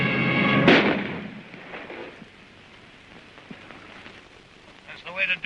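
Gunfire from a 1936 science-fiction war scene cracks out in a loud burst near the start, then rumbles on as a softer, rain-like crackle of distant shots, with sharper pops returning at the end.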